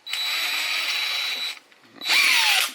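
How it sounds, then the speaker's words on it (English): A power drill boring out the mounting holes for a brake master cylinder on a 1966 Mustang, two loud whining bursts of drilling separated by a brief pause. "Just came in with the drill."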